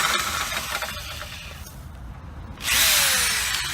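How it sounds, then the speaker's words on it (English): A power drill with a metal drill bit whines steadily, grinding through metal in a vehicle seat frame, then rises sharply louder and higher as the bit bites in near the end. "get a metal drill bit, drill a hole right here next to it"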